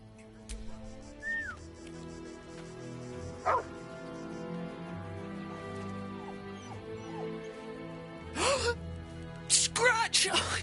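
A dog in a video game gives a few short barks and yips, scattered and at moderate loudness, amid game sounds and voices talking.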